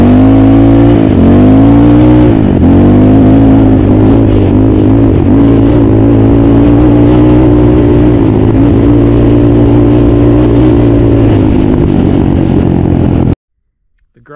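A 2014 Yamaha Raptor 700R sport quad ATV engine revs hard and close, pitch sweeping up and settling into a sustained high roar before cutting off abruptly at the end.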